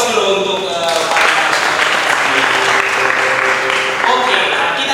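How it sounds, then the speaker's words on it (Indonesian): An audience applauds steadily for several seconds, loud and close, while a voice speaks over the clapping. "kita berikan aplaus dulu untuk"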